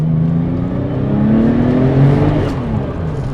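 A Porsche Turbo road car accelerating hard on boost, its engine note rising steadily over a few seconds with a loud, close, continuous drone and whirring turbo tone.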